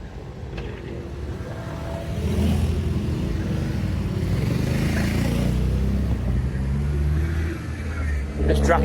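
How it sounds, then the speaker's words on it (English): Busy street traffic in Khao Lak: motorcycles and cars pass close by in a continuous rumbling stream, engines swelling and fading, with a louder surge partway through. "This traffic is mental"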